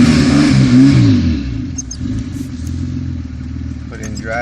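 A car engine revs hard as the accelerator is pressed on a vehicle whose transmission is slipping and not grabbing, a loud rising roar that eases into a steadier drone, with a voice speaking over it.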